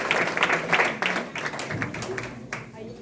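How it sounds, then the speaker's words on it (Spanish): Congregation clapping during a Spanish-language church service, a burst of loud hand claps that tapers off over a few seconds in a reverberant room. "Den un aplauso fuerte al Señor"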